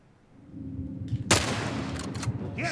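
Gunfire in the video game The Last of Us Remake breaks out over a low background hum, a sharp shot followed by a rattling burst of rapid shots, no talking.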